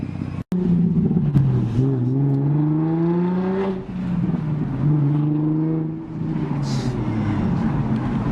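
A Nissan 350Z fitted with blast pipes drives past close by, its engine note rising and falling through gear changes with a raspy, droning exhaust that swells and settles, loud and steady throughout.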